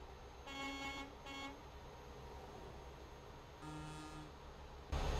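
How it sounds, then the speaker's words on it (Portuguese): Truck horn in Euro Truck Simulator 2 multiplayer: two short honks, then a longer honk later, all distant and quiet over a steady engine drone. "achei que ele não ia buzinar"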